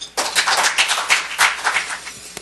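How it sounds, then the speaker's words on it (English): Warm audience applause greets a visiting professor at a lecture hall event in Seoul, many hands clapping densely and steadily close by for a couple of seconds after a brief silent start. "Welcome him with applause."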